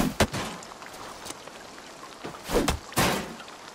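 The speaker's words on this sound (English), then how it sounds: "Nothing more sweet than the crack of a good, clean rock hit." A rock strikes a target in Assassin's Creed Valhalla, heard as a few sharp, hollow thunks spaced across a couple of seconds, the last two close together and loudest, over a steady faint background hiss.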